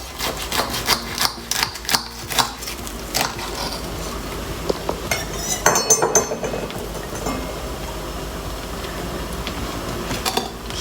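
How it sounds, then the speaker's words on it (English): A knife slices through a potato, tomato and cheese sandwich, giving a series of close crisp crunches and clicks against a plate, denser at first and then sparser, with no voices. "I'm going to cut it in half."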